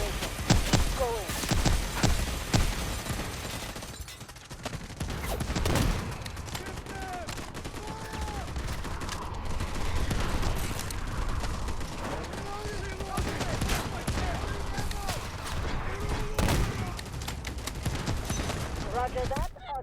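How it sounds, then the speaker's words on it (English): An artillery barrage rolls through a night trench battle in Delta Force Mobile, with dense gunfire, rapid machine-gun bursts and heavy booms crowding the whole stretch, loud and close. Voices talk over the firing. "Artillery barrage incoming."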